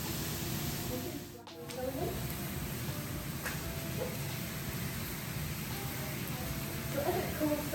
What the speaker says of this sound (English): And we get some steam coming into the lava like this, and it starts to inflate from the sections in here.